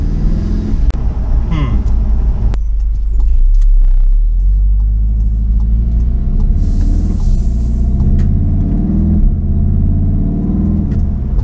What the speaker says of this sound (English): right now the car is idling at around 1100 RPM